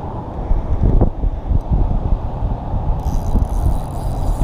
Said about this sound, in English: We also got feisty gust winds we're battling